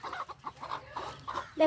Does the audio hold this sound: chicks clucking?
yes